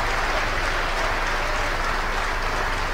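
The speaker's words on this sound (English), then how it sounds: "You can hear the applause in the background from the SPACEX team gathered around the Mission Control Center" Applause from the SpaceX team gathered in Mission Control during an X-37B launch, a loud continuous wash of clapping and cheering throughout.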